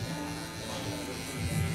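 Electric hair clippers hum steadily while cutting hair at a barbershop, a continuous close buzz with slight variation in tone as the blade moves, with no talk over it.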